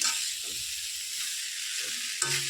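Potatoes, raw bean seeds and tomato fry with spices in a pan, giving a steady, close sizzling hiss broken by soft stirring scrapes and a sudden louder clatter near the end.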